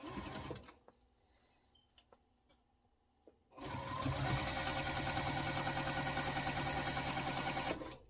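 A sewing machine stitching quilt block seams with a quarter-inch seam allowance runs in a steady, loud, fast-pulsing drone for several seconds after a few quiet handling taps.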